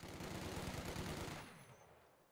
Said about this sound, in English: Machine gun squad.